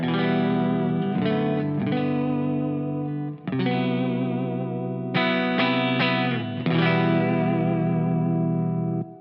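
Thick, distorted electric guitar chords from a Fender Jaguar through a Mother Mary The Fly octave fuzz pedal on its rhythm circuit ring out, sustained and buzzy, changing a few times with brief pauses between strums.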